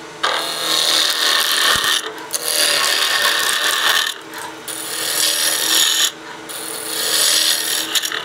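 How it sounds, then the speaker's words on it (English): A skew chisel takes long planing cuts on a spinning birdhouse ornament on a wood lathe, giving loud close hissing cuts in three sustained passes separated by short pauses. "Using the long end of the skew as a planing cut gives us a good surface."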